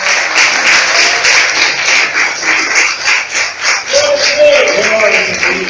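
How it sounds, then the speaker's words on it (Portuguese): Church congregation applauding together, a dense, steady wash of clapping held loud and close for several seconds with a faint voice briefly rising beneath it. "Aplaude e bendiga o nome santo de Jesus"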